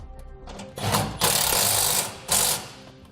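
A ratchet drives a factory bolt through a relocation bracket into a truck frame, heard as close metallic clicking under bursts of louder grinding turns, three or four strokes in quick succession.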